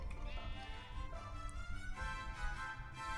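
Sheep in the Minecraft video game bleat over a steady bed of in-game music and effects, at moderate level with a few brief clip-clop-like taps.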